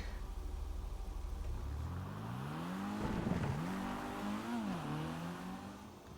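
Pfister Growler sports car in GTA 5 revving hard, its engine pitch climbing and wavering through gear changes while tires scrub, loud and close with no talk.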